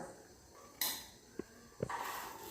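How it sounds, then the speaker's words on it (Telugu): Coriander, tamarind and salt are pounded in a mortar, giving a few faint, sharp knocks and clinks spaced apart in a quiet room. "ఇప్పుడు ఏంటంటే కొత్తిమీర అండ్ చింతపండు వేసుకొని దంచుకోవాలి అండ్ సాల్ట్ కూడా"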